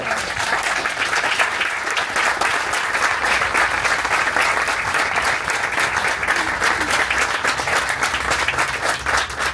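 A festival audience gives dense, sustained applause for an author after a talk. The clapping is close, loud and unbroken throughout, with no one speaking over it.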